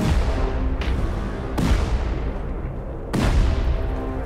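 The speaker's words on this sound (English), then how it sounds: "I can hit the C4s. I can hit him doing it, Lucas. Yeah, I can hear the explosions." Three heavy C4 blasts go off in the survival game Rust, each a sharp boom with a rumbling tail, spaced about every second and a half over a steady low din, with no talking.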